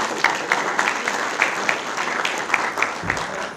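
Moderate audience applause in a hall for Stonehill College at a morning community event, a patter of scattered claps with a few sharper hits, fairly even and not very loud, lasting the few seconds.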